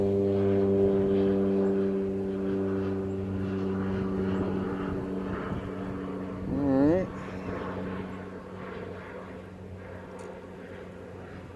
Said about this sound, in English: Pardon the airplane.